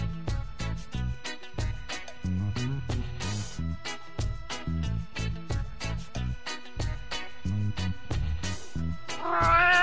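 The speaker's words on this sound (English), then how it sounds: "This lovely little moggy saves his buddy from the jaws of a crazy stray dog" A small cat, a moggy, yowls and caterwauls while fighting off a stray dog, with repeated loud, harsh cries that rise in pitch at the end and no talking over them.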